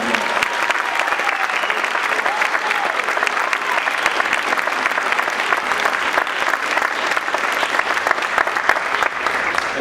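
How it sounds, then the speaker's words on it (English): A large crowd at a church political rally applauds steadily for the whole stretch, dense continuous clapping that stays loud and even from start to finish. "a great round of applause"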